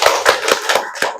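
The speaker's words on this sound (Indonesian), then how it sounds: "Tepuk tangan untuk kelompok 3." Applause for a presenting group in a classroom: brisk, fairly loud hand claps in an uneven burst lasting about a second.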